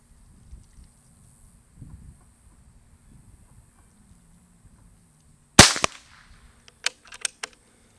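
Beeman QB Chief .22 air rifle firing a 15.89 grain pellet: one sharp, loud crack after a quiet stretch, followed by a few fainter clicks and knocks.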